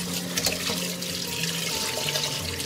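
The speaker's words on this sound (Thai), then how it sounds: "เวลาเราล้างนะก็ให้เราใช้น้ำเนาะฉีดไปตรงนี้ท้องเขาหน่อยค่ะเราจะล้างจนกว่าน้ำใสนะ" Tap water runs steadily and close as fish are rinsed under it, with a splashing, gurgling flow that shifts slightly as the fish are moved, and no talking.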